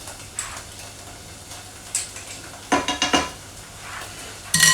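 Garlic and jerk seasoning being stirred in a cooking pot with a spoon, giving a few scraping, clinking strokes clustered near the middle and a louder knock at the end over a faint kitchen background; no one speaks.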